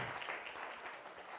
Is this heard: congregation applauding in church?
yes